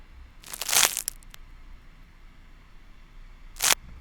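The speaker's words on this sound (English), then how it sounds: "more foley sounds, more leaf crunching sounds, just smaller ones between" Processed foley of dry leaves being crunched, made extra crunchy with wave-shaper distortion: a loud, close crunching burst of about half a second, then near-silence, then a second short crunch.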